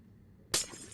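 Glass breaking in the video game Minecraft, a single sudden bright shatter after a quiet stretch, followed by a short fading tinkle of falling shards.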